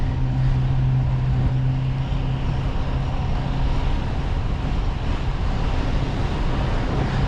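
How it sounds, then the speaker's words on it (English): Steady wind buffeting a microphone outdoors while riding a bicycle, a continuous broadband rumble with a low hum underneath, constant and loud throughout. "Wow, it is very windy."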